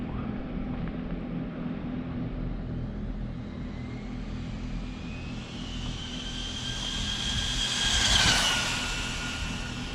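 A Rlaarlo RC car with a Surpass 60A ESC runs on 3S power, its motor giving a continuous whine and rumble that rises in pitch as it passes close around eight seconds, then fades slightly.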